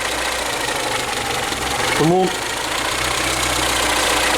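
A Daewoo Sens car engine runs roughly with a steady, close, broadband rumble, and someone speaks briefly over it partway through.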